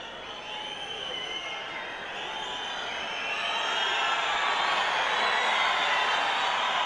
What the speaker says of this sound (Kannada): ಚಪ್ಪಾಳೆಗಳ ಸ್ವಾಗತ.